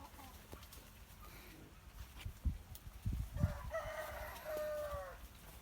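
Chickens cluck and scuffle nearby, then a rooster crows toward the end over a low outdoor background.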